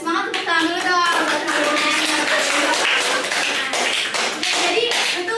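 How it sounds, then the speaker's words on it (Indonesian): A class of children claps along during a lesson, a loud fast run of overlapping hand claps with children's voices and chatter mixed in throughout. "biar semangat tepuk tangan dulu dong"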